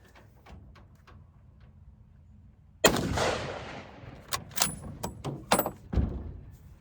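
A rifle round fired at body armor cracks out loud and sharp, followed by a clatter of smaller impacts and rattling noises.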